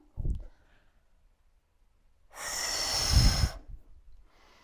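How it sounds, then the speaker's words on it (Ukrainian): Slow breathing during a guided breathing exercise: one short, close breath near the start, then a long, louder, airy exhale lasting about a second and a half, and a faint breath at the end. "Видих і вдихаємо."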